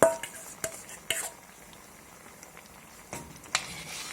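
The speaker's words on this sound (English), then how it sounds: "Just have a look how this is getting mixed up properly and the color is changing." A spoon stirs cashew nut paste into a makhani gravy in a pot, with soft scraping and a few sharp clinks against the pan over a low simmering bubble, close and fairly quiet.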